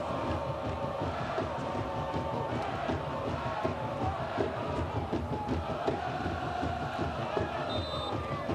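Big, dense stadium crowd at Keyworth before a Detroit City FC match against Oakland Roots SC, a steady roar of cheering and chanting voices holding loud and continuous throughout.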